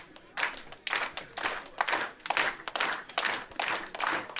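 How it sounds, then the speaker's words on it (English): Applause from the crowd at a pro wrestling match: many hands clapping in dense, uneven surges that rise and fall, fairly loud and sustained with no talk. "the crowd showing their appreciation for both men"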